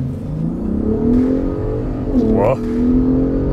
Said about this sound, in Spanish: Ahora sí, acelerador a fondo.